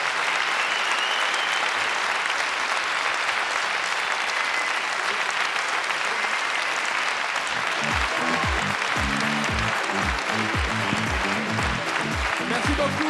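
An audience at a festival show applauds steadily and loudly throughout, with a voice speaking over the clapping in the later part.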